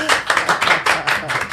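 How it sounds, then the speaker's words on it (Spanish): A studio audience claps for a guest arriving on a podcast set, a short burst of fairly close, rhythmic clapping in quick pulses, with some voices faintly underneath. "Así que quiero un fuerte aplauso"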